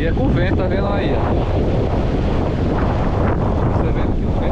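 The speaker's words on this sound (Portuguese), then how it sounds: "Você vendo que o vento é forte, viu?" Strong wind gusts during a rainstorm in Recife, Brazil, roar loudly and continuously against the microphone, blending with rushing rain noise and a faint voice early on.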